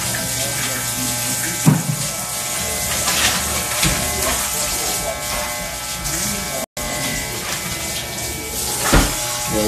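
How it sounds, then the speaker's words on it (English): Electric hair clipper buzzing steadily at close range as it cuts hair, with brief scraping and knocking, under people talking throughout. "You see how you pick the clipper up?"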